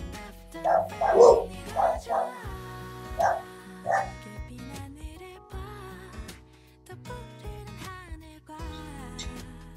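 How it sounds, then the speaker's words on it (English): Several dogs bark and yip in a burst of loud, close barks over the first four seconds, then fall quiet to a few whimpers as background room noise continues. "you could hear my dogs"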